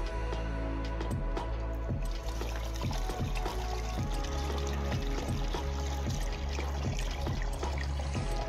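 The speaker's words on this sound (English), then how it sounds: "we're going to pour some hot water inside" Hot water pours into a rusty motorcycle fuel tank, a steady splashing gush with trickling, alongside a rhythmic mechanical thumping throughout.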